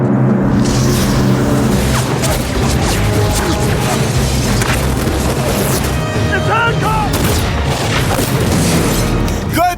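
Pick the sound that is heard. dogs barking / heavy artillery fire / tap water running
heavy artillery fire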